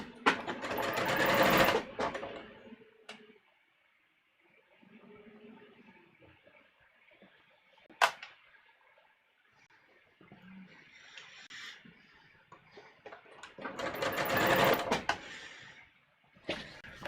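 A sewing machine stitches the side seams of a muslin bodice in short bursts at the start and near the end, with quieter fabric handling and small clicks in between, close by.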